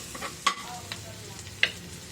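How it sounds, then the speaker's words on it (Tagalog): Garlic and onion being sautéed in a pan, with a low sizzle under a few sharp utensil knocks and scrapes against the metal, close by and with no voices. "Gisa ako ng bawang at sibuyas."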